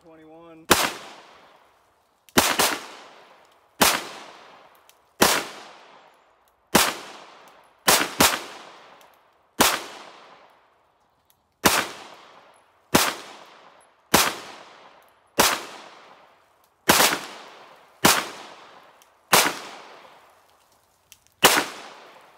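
Fourteen loud, sharp gunshots ring out alone at slow, fairly even intervals during a target shooting session using Modern Spartan Systems accuracy oil, each followed by a short decaying echo.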